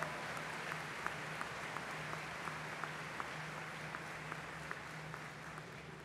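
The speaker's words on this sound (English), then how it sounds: "Let's give the orchestra and chapel choir another round of applause." A commencement audience at Capital University's 173rd ceremony applauds the orchestra and chapel choir. The clapping is soft and distant, a steady patter with a few sharper claps standing out, and no voices are heard.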